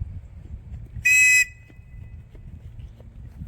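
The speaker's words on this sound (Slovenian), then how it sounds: "Imate še piščal." A single short, sharp blast from a survival whistle at an outdoor summer survival camp for primary school children in Bloke, piercing and close over quiet background murmur.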